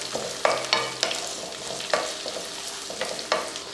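Mixed vegetables with beans and peas sautéing in a pan for rava kichadi, a low sizzle punctuated by regular spoon scrapes and knocks against the pan, close and clear with no talking.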